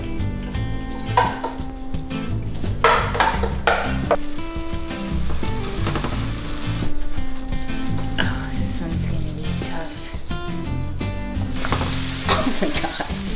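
Banana protein pancake batter sizzling steadily in a butter-sprayed pan, with a clink of utensils and a pan being handled, while people talk over the frying.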